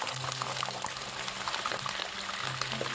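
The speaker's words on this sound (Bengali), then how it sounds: "তেল ভালোভাবে গরম হয়ে এলে তাতে আমি দিয়ে দেবো আগে থেকে কেটে রাখা আলু।" Cut potatoes frying in hot mustard oil in a pan, a soft continuous bubbling and sizzling with faint crackles, heard close but quiet, with a low hum underneath.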